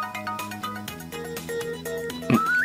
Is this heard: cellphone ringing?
yes